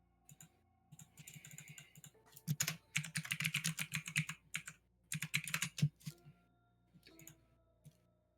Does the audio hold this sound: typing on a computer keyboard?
yes